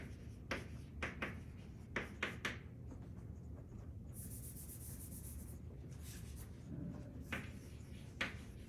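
Chalk or marker writing on a board during a birational geometry lecture comes as short scratchy strokes in irregular bursts. A brief high squeak sounds midway, and the strokes are fairly faint against a quiet room.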